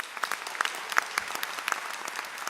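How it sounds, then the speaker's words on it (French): Applause from an audience at a jazz artist residency event at a concert venue, thin and scattered with distinct individual claps popping out over a soft background, fairly faint throughout. "On peut les applaudir très fort."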